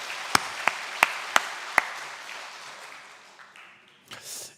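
A church congregation at a Korean Methodist Sunday service applauding, a broad wash of clapping that fades out over several seconds, with a few sharp ringing clicks early on and a brief bump of noise near the end.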